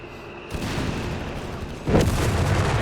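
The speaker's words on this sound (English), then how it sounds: "This is just, tier 2 light artillery doing the job" Tier 2 light artillery firing in the strategy game Company of Heroes 3: two deep, booming shots about a second and a half apart, the second louder, over a rumbling battlefield background.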